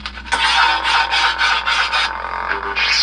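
CCSabers SN-PIXEL V4 custom lightsaber ignition effect, a loud, close, crackling electronic hiss that pulses in rough waves, then shifts to a brief rising sweep near the end.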